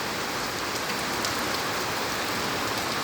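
Torrential rain in Sylhet keeps up a thick, constant patter and hiss from start to finish, near and loud, with no voices present.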